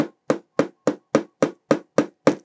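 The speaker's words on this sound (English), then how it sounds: "I'm going to be able to hammer this down into position." A hammer drives a propeller reduction gear part into place on a Lancaster bomber scale model, nine sharp, evenly spaced taps in quick succession, close and clear with no talk.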